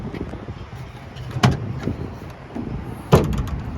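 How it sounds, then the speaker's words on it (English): Tailgate of a 2024 Nissan Frontier pickup truck, a dampened locking tailgate, pulled down outdoors: two distinct mechanical clunks about two seconds apart, close and moderately loud, with a latch release and a settling thud over low background rumble. "Let's pull down the tailgate."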